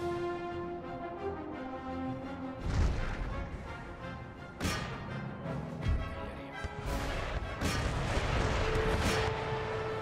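Cannon and artillery fire in an Empire: Total War battle against a Mughal army: irregular heavy booms and crashes, some close and loud and others more distant, over a busy battlefield din with sustained tones.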